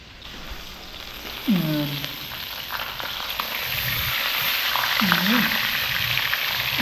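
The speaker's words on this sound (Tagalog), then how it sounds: "Igisa po natin." Food sautéing in olive oil in a pan, a steady loud sizzle and hiss with occasional stirring scrapes, close up, with a few low voiced sounds under it.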